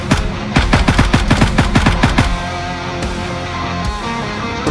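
Automatic gunfire in the Gray Zone Warfare shooter game, a fast volley of sharp close shots for about two seconds, then a lower rumble with a few scattered single shots.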